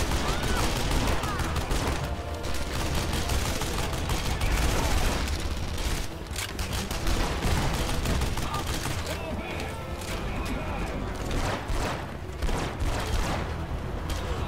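Dense, sustained gunfire from the video game Red Faction Guerrilla, loud bursts and rapid fusillades layered continuously with explosions and game noise throughout, a voice briefly talking over it.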